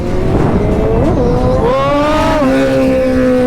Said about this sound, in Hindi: ओ भाई क्या गंदे बैक फायर मारी भाई।